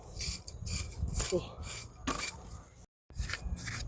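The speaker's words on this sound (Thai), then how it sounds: "เสียงโดนหอย" A digging tool scrapes through sand and knocks against hard-shelled clams on an early-morning clam hunt: close, gritty rasping strokes with a few sharp clicks, briefly cut to silence near the end.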